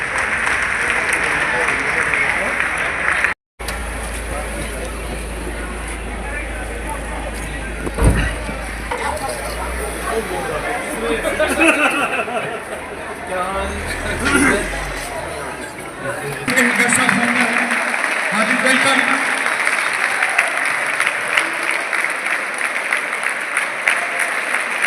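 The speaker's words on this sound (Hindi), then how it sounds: "जो तालियों से वेलकम करते हुए उनका अभिनंदन किया गया।" Spectators at a kabaddi tournament in Udhampur, Jammu and Kashmir, clap to welcome guests. The applause is mixed with someone talking and crowd babble, and it grows denser and steadier toward the end.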